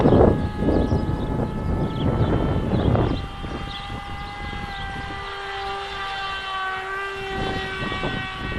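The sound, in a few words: S800 Sky Shadow model aircraft motor at half throttle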